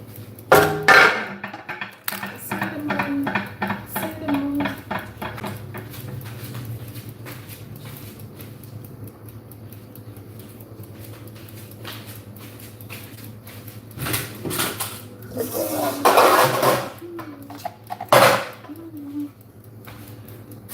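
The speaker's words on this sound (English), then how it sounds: "Now I'll just do the dishes." Dishes washed after cooking curry puff filling: scattered clinks and knocks of pots, pans and utensils, with louder clattering bursts near the start and toward the end over a low background hum, voices talking between them.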